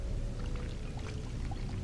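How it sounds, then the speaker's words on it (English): Water pours steadily in the Weird Strict Dad video game, a continuous close rushing wash lasting about two seconds with no talking. "let's get some water here"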